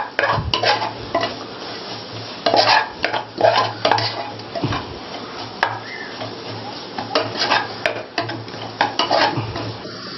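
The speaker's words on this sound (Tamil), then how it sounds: "இதில் சேர்த்துட்டு எல்லாத்தையும் மறுபடியும் வதக்க வேண்டியதான்." Masala and mutton are sautéed in a pan with repeated rhythmic stirring scrapes and clinks over a steady background sizzle, close and fairly loud, with no voices.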